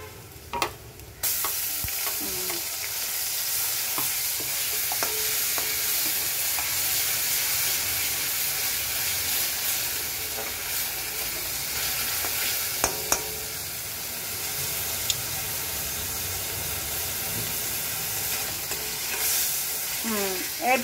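Onion frying and being stirred in a pan while cooking a prawn and pointed gourd curry, a steady loud sizzle running the whole time with occasional scrapes and clinks of the spoon.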